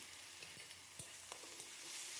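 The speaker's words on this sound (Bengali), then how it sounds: "এবার আমি ওই আদা, রসুন, কাঁচা লঙ্কার পেস্টটা দিয়ে দিচ্ছি।" Ginger, garlic and green chilli paste sizzling in a pan of browned onions, a quiet, steady frying hiss broken by small pops and stirring knocks, with no voices.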